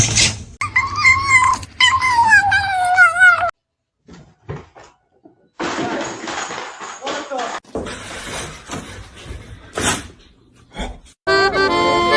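Cats fight in loud bursts of yowling, hissing and growling, broken by silent gaps, scuffles and a clatter, with a comic sound effect near the end and a voice speaking in places.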